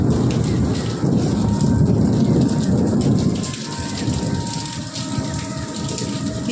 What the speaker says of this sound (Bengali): বৃষ্টি হচ্ছে, দেখো তার উপরে মেঘ ডাকছে।